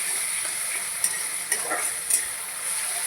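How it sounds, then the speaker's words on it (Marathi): Chopped onions sizzling steadily in hot oil in a pan, with a few soft stirring scrapes breaking through the continuous close frying hiss. "आता आपल्याला कांदा लाल करून घ्यायचा आहे मस्त असं सोनेरी कलर यायला पाहिजे"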